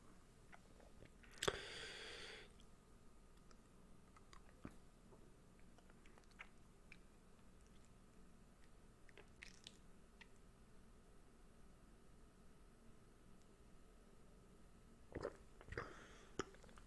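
Close-mic chewing and swallowing of a Doliprane pill, quiet wet mouth clicks and a couple of crunchy bites near the start and end, with soft ticks and smacks between in near silence.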